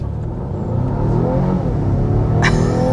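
A 2026 Volvo XC60 Ultra plug-in hybrid accelerates hard on a flat, empty road, its steady engine-and-motor rumble holding loud and continuous, with a brief bright whoosh near the end.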